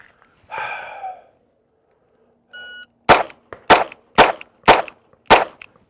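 Five pistol shots on a timed range drill, sharp, loud and close, evenly spaced about half a second apart after a brief exhale and a short beep; no talking.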